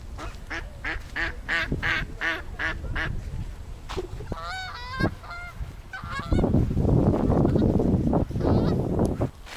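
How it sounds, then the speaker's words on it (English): Waterfowl calling at a pond, a rapid series of loud nasal honks followed by scattered quacks, then a noisy stretch of background bustle. "Oh, there's way less ducks here now."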